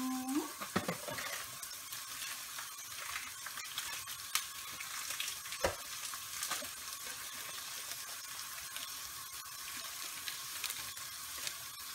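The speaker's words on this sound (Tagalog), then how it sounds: "Haluin lang natin yan!" Leftover spaghetti pasta is stirred and fried in a pan in a home Filipino kitchen, giving a steady sizzle throughout with a few scraping clatters of the utensil against the pan.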